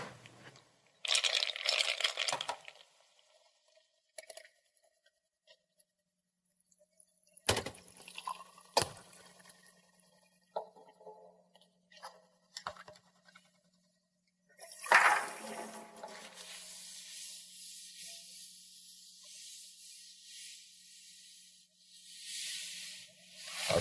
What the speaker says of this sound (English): take these 2 glasses over to the sink and fill them both almost full of water